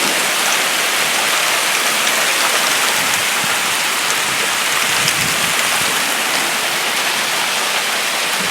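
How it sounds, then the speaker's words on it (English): A heavy hailstorm pelts down outdoors, hailstones striking a house and the ground in a loud, continuous roar of dense patter that barely varies from start to finish. "This is hail, guys. It looks like freaking snow, but it's not."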